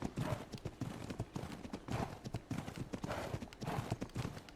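A horse walks in the video game Ark, its hooves giving a steady, rhythmic clip-clop that repeats evenly throughout, close and clear.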